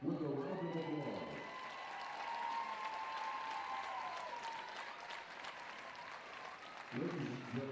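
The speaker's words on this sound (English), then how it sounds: "Join us in congratulating these seniors with a round of applause." Applause for senior players at a 5A high school softball championship game, a broad steady wash of clapping through the stretch, with a PA announcer's voice at the start and end.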